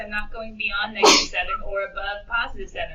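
A single sharp sneeze bursts out during a classroom lecture, loud and close, framed by a teacher talking steadily before and after it.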